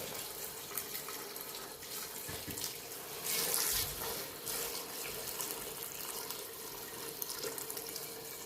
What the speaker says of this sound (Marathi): ते पाणी आपण गरम करून ठेवलं ते टाकून घेऊया